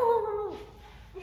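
A dog whimpers during a rehearsal recording, one drawn-out high whine that slides downward, followed by a faint shorter whimper, close and fairly clear with no talking.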